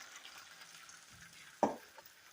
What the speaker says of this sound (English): let them cook in my frying pan until the meatballs are